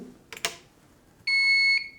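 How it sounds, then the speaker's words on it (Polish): An Avocent console server sounds a steady electronic alarm tone when one of its power supplies fails, a single loud sustained beep of about half a second following a brief click or rustle. "pojawi się alarm, że zasilacz nie działa"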